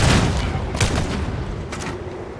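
Gunfire in the game Warhammer 40K Darktide comes as a loud, close burst of booming shots with a couple of sharp cracks, echoing and dense across the short stretch.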